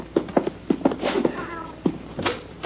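A black cat meows several times in a basement, a short run of vocal calls with quieter rustling between them, close and moderately loud.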